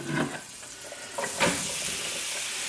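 Onions sautéing in butter in a pan for hamburger steak, a steady broadband sizzle with a couple of brief louder bursts as they hit the hot fat, with no talking.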